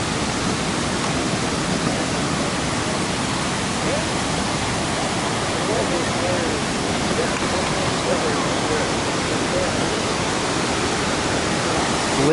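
Linville Falls in North Carolina roars as a continuous broadband rush of falling water, steady and loud throughout with no break.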